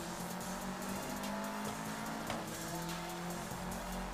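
Car engine and road noise from the mobile racing game Need for Speed No Limits, a steady loud drone with occasional faint clicks running throughout.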